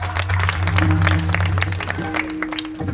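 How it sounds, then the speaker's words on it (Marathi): Audience applause at an Akhand Harinam Saptah religious gathering in Godhegaon, a dense steady clapping that fills the whole stretch over a sustained low droning tone. "पण महिलांकरता परत एकदा सर्वांनी टाळ्या वाजवा"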